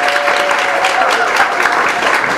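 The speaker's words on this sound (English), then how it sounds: "Can we get some applause?" A Science Pub crowd in Anchorage gives its volunteers loud, close, sustained applause that fills the room, with a few voices mixed in.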